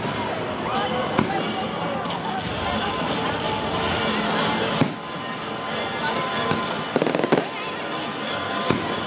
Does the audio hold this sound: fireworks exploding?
yes